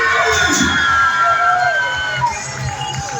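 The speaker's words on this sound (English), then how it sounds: "let's get loud on 3. 1, 2, 3, scream!" Large crowd at a BMX rally show screaming and cheering loudly together, a sustained roar of shrieks and whoops close and dense, easing slightly toward the end.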